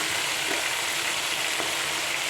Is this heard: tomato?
yes